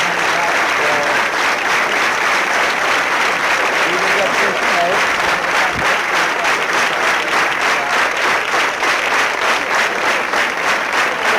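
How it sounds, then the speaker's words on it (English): A whole room of people on their feet, clapping steadily in a sustained standing ovation at a 1996 general election night event, a dense, even roar of applause running throughout. "The room was standing and clapping."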